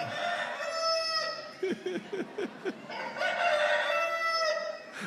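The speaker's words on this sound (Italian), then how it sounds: "Il gallo canta per tutti." A rooster crows loudly and close, a long drawn-out call broken by a run of short clucking notes before the crow resumes.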